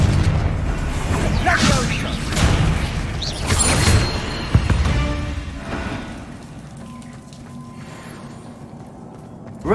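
Confringo explosive spell blasts in Hogwarts Legacy, a series of deep booming bursts with crackling debris and rumble, loud in the first half then fading to quieter ambience.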